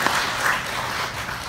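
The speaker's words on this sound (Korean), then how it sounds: "큰 박수로 맞으시기" Audience at a Korean public policy forum clapping to greet a presenter, a dense, even wash of many hands throughout this short moment with no voices over it.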